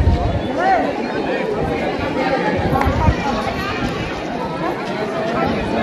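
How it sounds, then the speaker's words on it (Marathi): A dense crowd of temple visitors at Ekveera chatters all around, a constant loud murmur of overlapping voices with occasional louder exclamations close by. "खूप गर्दी"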